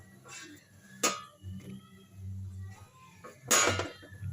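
Eggs beaten with onion, tomato, green chilli, curry leaf powder and salt for a tomato onion omelette, giving a couple of sharp utensil-on-bowl clinks and a soft scraping whisk in between, close and alone.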